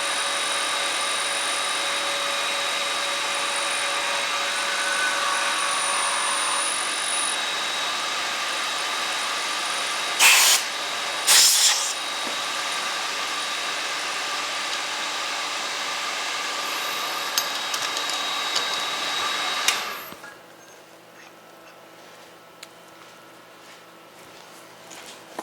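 A machine tool cuts metal on a sine plate during a final pass, giving a steady high-pitched whine with two brief sharp spikes midway, then winding down to a quieter hum near the end.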